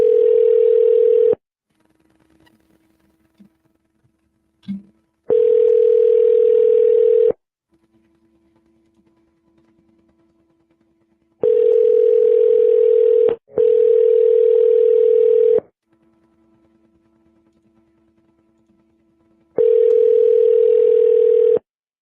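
A telephone ringback tone repeats in long, loud, steady bursts with silent gaps between them, and there is no talking.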